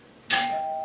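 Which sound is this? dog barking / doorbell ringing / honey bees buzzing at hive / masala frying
doorbell ringing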